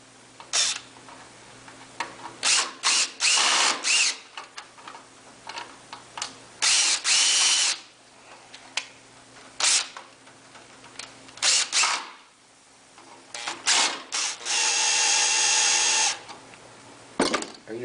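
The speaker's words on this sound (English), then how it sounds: "I recommend that you get a little drill" A small cordless drill drives screws while a light socket is installed, in repeated short whirring bursts separated by pauses, loud and close, with a longer steady run near the end.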